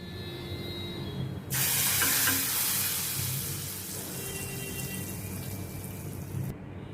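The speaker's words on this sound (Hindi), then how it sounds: "इसको अच्छी तरह से मिक्स करके अभी ये मैं तड़का दाल में ट्रांसफ़र करती हूँ" Hot tadka of oil and Kashmiri red chili powder poured into cooked chana dal, bursting into a loud hissing sizzle that swells suddenly, then slowly fades and cuts off after several seconds.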